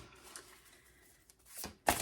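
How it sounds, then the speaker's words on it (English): A tarot card deck is shuffled close by, with soft rustling followed by two sharper bursts of flicking card edges near the end, and no voices. "it just shuffles so well. You can definitely riffle and bridge it."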